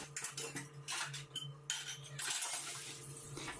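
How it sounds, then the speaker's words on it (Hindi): Dishes and cutlery being washed at a kitchen sink: running water with scattered clinks and clatters of metal and crockery, steady and close, with a low hum underneath. "साथ में मैं यहाँ पे बर्तन जो थे उनको वॉश कर लेती हूँ"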